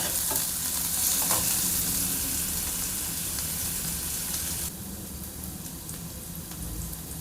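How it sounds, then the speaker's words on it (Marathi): Onions fry and get stirred in a pan for chapati upma, a continuous close sizzle with scraping that drops to a quieter level partway through. "अशा प्रकारे कांद्याला मीडियम भाजून घ्यायचा आहे आपल्याला"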